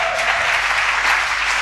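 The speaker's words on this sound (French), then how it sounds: "On applaudit le Seigneur puissamment," Church congregation clapping together during a worship service, a dense, steady burst of applause that is close and fairly loud throughout.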